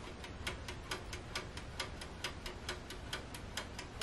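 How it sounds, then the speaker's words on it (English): A Dash mini toaster oven's timer knob ticks loudly, with sharp, evenly spaced clicks about five times a second and steady, close, no voices. "The timer ticks so loud."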